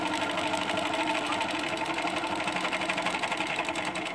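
A sewing machine stitches curvy crosshatching quilting, a fast continuous whirring chatter of the needle running steadily at close range throughout.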